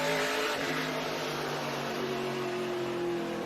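SRX series race cars circling Five Flags Speedway, running two by two, with a steady, continuous engine drone that holds at a constant level throughout.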